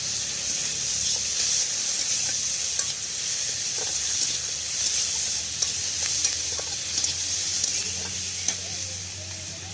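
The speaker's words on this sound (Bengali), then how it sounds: "কড়াই তেল দিয়ে বন্ধুরা পেঁয়াজ দিয়ে দিলাম।" Onions fry in oil in a kadai with a constant close sizzle and hiss, broken by small clicks and scrapes of stirring; no talking.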